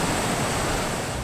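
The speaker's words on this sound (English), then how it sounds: "Sounds of rushing water will be replaced with a more tranquil flow." Water rushes steadily over an old, crumbling river dam in Otsego Township, making a dense, even roar with no breaks and no voices.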